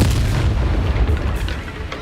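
The Bombarda spell explodes in the video game Hogwarts Legacy, a heavy, deep booming blast that rumbles on and slowly fades, with no voices over it.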